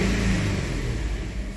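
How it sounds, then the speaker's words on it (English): A Kia engine with misfires on cylinders 1, 3 and 5 is revved, giving a steady, close, loud low rumble throughout with a rough, uneven edge. "Let me rev it up"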